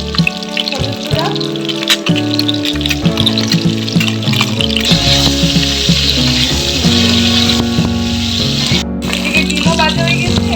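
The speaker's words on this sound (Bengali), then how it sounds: "কড়াইয়ে এখন একটু তেল দেওয়া হয়েছে, ডিমগুলো সব ভাজা হইব এখন।" Eggs fry in oil in a wok for egg pulao, with a steady crackling sizzle and rattling stirring sounds throughout, loud and close, mixed with background music.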